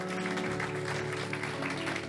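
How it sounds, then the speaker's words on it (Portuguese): An audience at a church lecture and worship event applauds, a dense steady patter of clapping over a sustained low tonal hum, lasting about two seconds. "deputado Samuel Malafaia, a gente desse um lindo aplauso ao nome do Senhor pela vida dele."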